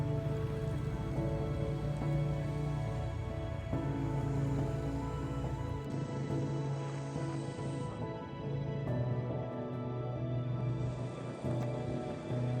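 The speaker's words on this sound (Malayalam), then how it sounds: "അവിടേക്ക് എത്തിയപ്പോഴത്തേക്ക് ഏകദേശം ചെറുതായിട്ട് മഴ പൊടിക്കുന്നുണ്ടായിരുന്നു" Light rain falls steadily on a forest road, a continuous soft patter with a low, even rumble underneath that holds unbroken throughout.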